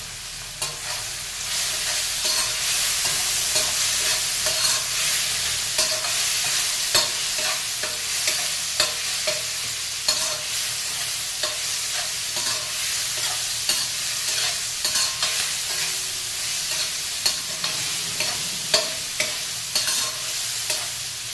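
Onions and garam masala fry in a pan with a continuous sizzle while a spoon stirs and scrapes repeatedly in a steady rhythm, close and fairly loud, with no talking.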